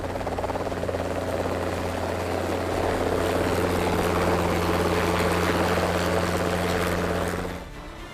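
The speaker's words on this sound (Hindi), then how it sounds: "सारंग हेलीकॉप्टरों की इस टीम ने जयपुर को अपने अनोखे अंदाज में सलाम किया।" Sarang display team helicopters flying over Jaipur: a steady, loud rotor drone with a deep, constant hum throughout, easing slightly in the final half second.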